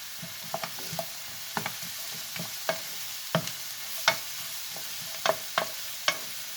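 Onions sauté in a pan for a fish dish, with a low, steady sizzle broken by scattered light taps and scrapes from a stirring utensil, heard up close with no voices.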